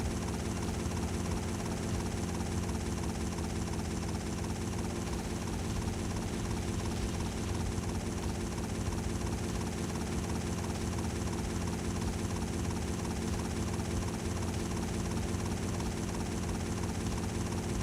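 A helicopter engine in GTA Vice City Stories, running at full speed, roars continuously and loudly with a steady rotor chop, close and unbroken, no talking over it.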